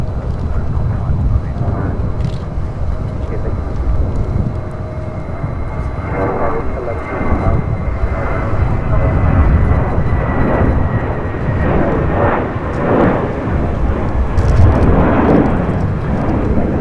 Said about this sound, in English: Mexico Dreamliner about to touch